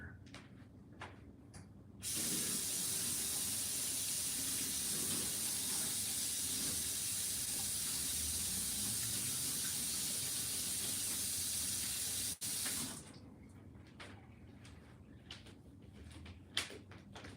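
A tap runs with a steady, close hissing rush of water for about ten seconds while fingernails are washed under it, framed by small clicks and handling sounds before and after.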